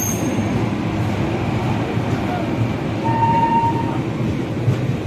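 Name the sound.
Prashanti Express passenger train running on the opposite track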